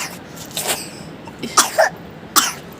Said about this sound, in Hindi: बुरी तरह से खांसी हो रही है।